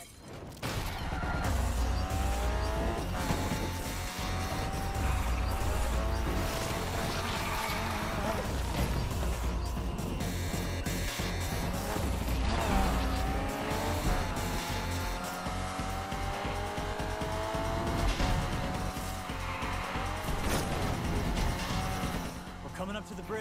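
A race car in Need for Speed Unbound accelerating hard during a police chase, engine roaring loudly and steadily as it climbs through gears, with crashes and game noise around it and voices talking over the top.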